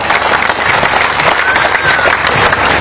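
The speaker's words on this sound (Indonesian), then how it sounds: "Sekali lagi tepuk tangan untuk Baitul Ilmi." Loud, dense applause from a large audience at an Indonesian Islamic gathering, a continuous roar of many hands clapping close by, steady throughout with faint crowd murmur beneath.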